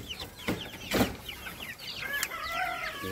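Jersey Giant chicks in a small backyard coop cheep and cluck in quick, high overlapping bursts, fairly close, with a few sharper knocks and no talking.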